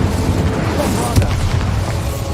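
A Bombarda blasting spell from Hogwarts Legacy goes off as a single low booming explosion partway through, rising out of a steady layer of dense game noise, with a voice talking over it.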